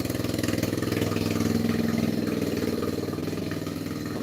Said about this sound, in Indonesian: Apalagi ini kendaraannya pakai knalpot bogar.